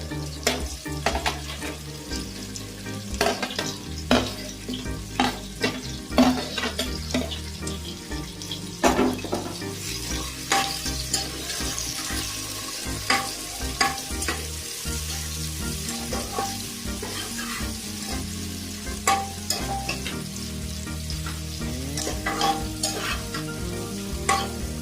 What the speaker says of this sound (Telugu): ఉల్లిపాయ ముక్కలు, పచ్చిమిర్చి ఇది కూడా వేసుకొని కలుపుకోవాలి